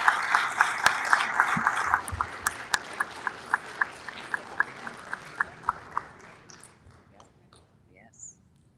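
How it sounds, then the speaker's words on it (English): Council meeting audience applauding the Public Services team: clapping opens the clip, then rhythmic, evenly spaced claps from a few people carry on steadily, thin out and die away into quiet room tone. "Let's give them a round of applause."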